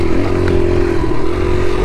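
A Honda XR100R four-stroke dirt bike runs in first gear, a loud close steady engine drone with a strong low hum and no speech.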